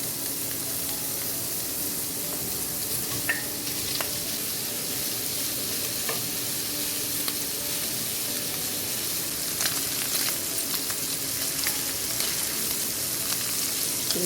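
Sausages sizzle loudly and continuously in a hot pan that still holds rendered bacon fat. A few faint clicks and scrapes of a utensil rise above the hiss now and then, and no voice is heard.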